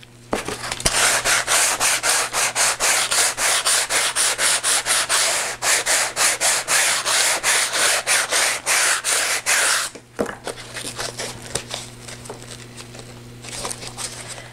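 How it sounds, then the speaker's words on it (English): A sanding sponge rubs around the edges of an altered book in rapid, steady scratchy back-and-forth strokes, loud and close for about ten seconds, then lighter, more scattered rubbing. "I'm just going to use my sanding sponge, and I'm going to take the edge off all the way around"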